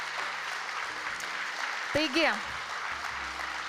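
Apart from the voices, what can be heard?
audience applause at an award ceremony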